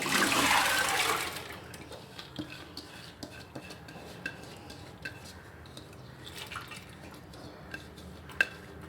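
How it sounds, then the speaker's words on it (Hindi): Soaked maash dal pours into a pressure cooker with a short watery splash and rush, followed by scattered light metallic clinks and taps of a spoon against the pot. "प्रेशर में सबसे पहले मैं भिगी हुई दाल डाल दूंगी।"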